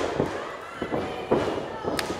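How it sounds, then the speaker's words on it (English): Uppercut strikes landing in a wrestling match between Davey Richards and Josh Alexander, heard as several dull thuds at irregular intervals under ongoing commentary from a booth. "we can hear these thuds all the way over here at the commentary booth"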